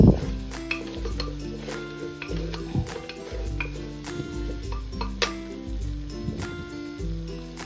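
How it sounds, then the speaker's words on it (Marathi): Spice paste sautés in oil in a pan while a spatula stirs and scrapes against it in a rhythmic pattern, with a soft sizzle under repeated clinks of metal. "5-6 मिनिटांसाठी अगदी छान असं तेलावरती वाटण परतून घ्यायचं, कडेने अगदी मस्त असं तेल सुटेपर्यंत।"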